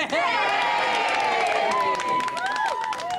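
A pub crowd cheers and whoops in celebration of a baby boy's birth, loud and close, with overlapping shouting voices sustained for a few seconds.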